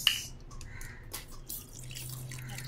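Water is poured into a lassi mixture with sugar, giving a short sharp splash followed by light dripping and trickling, near and fairly quiet.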